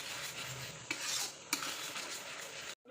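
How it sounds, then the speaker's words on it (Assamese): A spoon stirs a spiced paste of chili, coriander powder and turmeric frying in oil in a pan. Scraping and two sharp metal knocks sit over a soft continuous sizzle before a sudden cutoff. "গোটেই মছলাখিনি ভালদৰে ভাজি ল'ম।"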